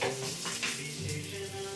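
Brinjal slices fry on a hot tawa with a dense, steady close-up sizzle and crackle that continues unbroken throughout the moment.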